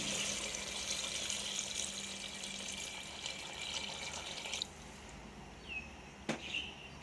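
A quiet, steady stream of water pours into a pot of chicken feet soup for several seconds, then cuts off, leaving a softer trickle and a few faint clinks.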